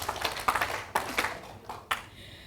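A crowd at an International Women's Day celebration in Nakuru County, Kenya, claps in unison in a few distinct, rhythmic bursts. The claps sound faint and somewhat distant.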